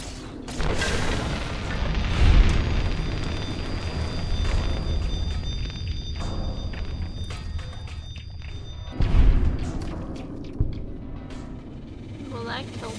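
Pulse grenades go off in Fallout: New Vegas, two deep booming blasts a few seconds apart over game ambience, with someone talking throughout.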